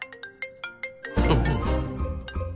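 A mobile phone ringtone plays a series of short bright chimes, then is swamped by a louder burst of mixed noise and music before the chimes return near the end.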